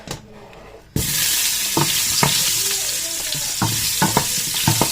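Ginger dropped into a hot frying pan, a sudden burst of loud steady sizzling and frying that continues at full level, with occasional scraping stir knocks close by.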